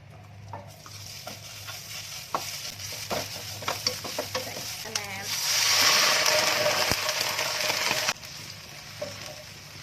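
Thai curry paste for a raw-banana curry sizzles in a hot pan while a utensil scrapes and stirs it in irregular strokes. The frying swells louder for a few seconds before settling back.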